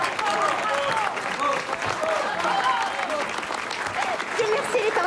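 Sustained applause from a crowd fills the room, dense and steady throughout, with voices talking and calling out over the clapping.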